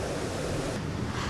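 Water rushing through four opened floodgates at a dam in Phetchaburi, Thailand, a loud, dense, continuous roar that fills the whole stretch without pause.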